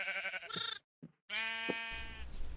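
Sheep in a farming video game bleat in two loud, close, drawn-out calls separated by a brief silence.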